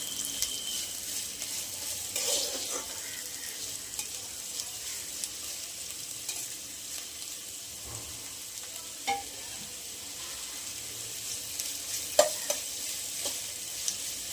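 Finely chopped onion with green chilies sautéing in a pan for fried rice, a soft steady sizzle with occasional stirring scrapes and clicks, fairly quiet and without talk.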